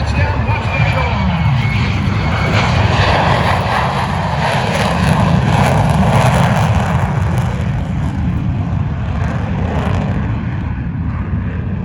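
Blue Angels jet at an airshow touching down on a runway and going around, a loud, steady roar of jet engine and rushing air that holds throughout at close range, with possible faint voices underneath.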